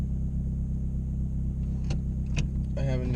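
Inside a Toyota Corolla with a manual gearbox, the engine hums in a steady low rumble while driving, with a few brief clicks and knocks near the end.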